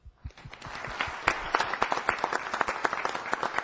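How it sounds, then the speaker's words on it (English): An audience at a city council meeting applauds the school winners, the clapping starting as a few close claps and quickly swelling into a steady, moderately loud round. "a final thank you and round of applause to all the winners in the schools"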